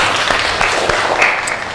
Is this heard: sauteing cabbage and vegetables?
no